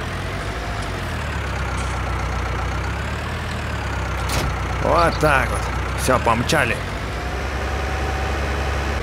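A noisy tractor engine in Farming Simulator 19 drones steadily at low pitch throughout, loud and continuous beneath someone talking in Russian.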